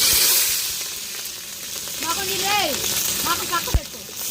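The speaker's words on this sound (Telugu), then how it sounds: "నూనె అయితే బాగా వేడైందిగా పచ్చిమిర్చి అని ఉల్లిపాయలు వేసుకుందాం" Green chillies and onions sizzle in hot oil as sambar is started, a steady bright frying hiss running throughout with occasional pops, while a person talks over it at moderate distance.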